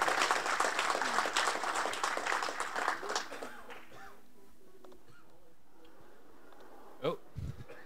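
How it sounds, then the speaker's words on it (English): An audience at a GNU Radio talk in San Diego claps loudly and densely for about four seconds, then the applause fades out, leaving quiet room tone and a few faint knocks. "one more round of applause"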